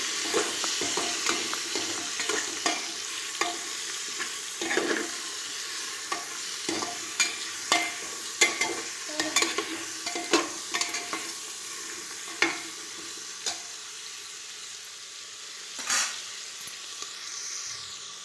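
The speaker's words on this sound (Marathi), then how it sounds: "आणि मीठ मी हे व्यवस्थित हलवून घेणार आहे" A spoon stirs bitter gourd pickle with turmeric and salt in a pan, with repeated scraping strokes over a soft steady sizzle, close and busy at first and thinning out toward the end.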